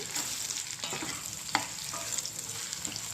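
Bitter gourd fries in a pan with a steady close sizzle, broken by occasional scrapes and knocks of a spoon stirring through the slices, no talk.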